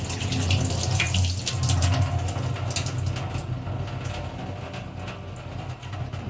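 Water runs and splashes steadily over cooked pasta in a kitchen, a continuous close pour with a broad rushing sound that eases slightly toward the end.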